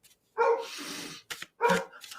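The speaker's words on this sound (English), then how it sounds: "he's not gonna stop barking" A dog barks loudly and close by indoors, two sharp barks with a short yip between them, with no talking.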